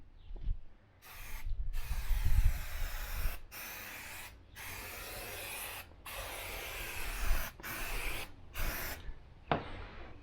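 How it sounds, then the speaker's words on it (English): Bursts of hissing spray from a trigger bottle of tire shine, several squirts separated by short gaps, close up, with faint handling noises between. "Clean surface before use, spray on and buff off or let dry."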